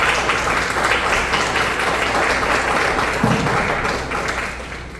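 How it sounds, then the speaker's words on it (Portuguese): Steady audience applause at the start of a legal talk on witness questioning, an even wash of clapping that eases off slightly toward the end. "Vamos uma salva de palmas."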